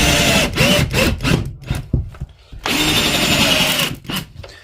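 Altocraft cordless drill driving a screw into wood, whirring in loud bursts that stop and restart, with short pauses between pulls of the trigger and a longer sustained run near the end.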